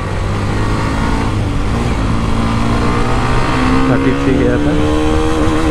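Hero Xtreme 125R motorcycle accelerating in second gear, with a steady loud engine drone whose pitch climbs toward the end, while someone speaks over it.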